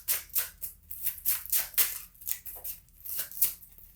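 Tarot cards shuffled by hand in quick repeated riffles and slides, crisp papery bursts at a close, even rhythm.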